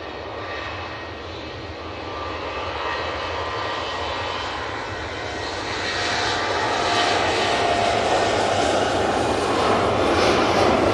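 A TUI passenger jet at Manchester Airport roars past with a loud, broad engine rumble that swells steadily over eleven seconds, heard outdoors with no talk over it.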